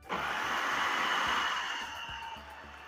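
An electric mixer whirs steadily through sweet donut dough with sugar, egg yolks and instant yeast, starting abruptly and holding a smooth, close motor hum with faint rhythmic thumps of the beaters underneath, without speech.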